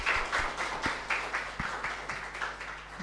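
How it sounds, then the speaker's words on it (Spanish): Applause from a small audience at an academic session on Bolivian cinema, thin, uneven clapping heard faintly at a distance against a low background hum. "Un aplauso, por favor."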